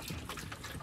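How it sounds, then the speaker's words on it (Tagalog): Lukewarm water pouring steadily into a container for bathing a pet green iguana at home, a soft continuous trickle and splash heard up close and alone. "So dito tayo maglalagay ng tubig."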